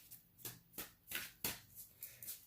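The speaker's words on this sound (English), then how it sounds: "I'm just shuffling. Every day I'm shuffling. Shuffling for the next message." Tarot cards are shuffled for a reading, quiet and close, with a series of soft riffling swishes repeating at a steady rhythm about every half second.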